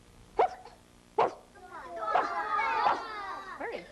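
A person imitates a dog with two sharp barks followed by excited yelping and whining, with children's voices mixed in nearby.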